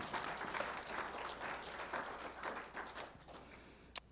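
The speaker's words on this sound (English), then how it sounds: "Round of applause," A conference audience gives a steady round of applause, dense clapping that carries on for several seconds and thins slightly near the end.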